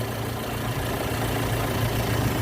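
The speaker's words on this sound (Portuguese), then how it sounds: "Veja o motor, você quase nem percebe o funcionamento dele. E ele está funcionando, ó." A Fiat Palio 1.3 16-valve engine idles close up, a smooth, steady low hum with an even rhythmic pulse and no revving, heard alone throughout.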